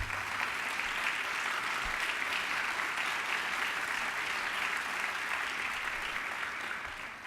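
Steady, dense applause from a large audience at a national tourism forum in Mexico, an even roar of many hands clapping that holds for several seconds before easing slightly at the end.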